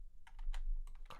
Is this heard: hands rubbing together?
no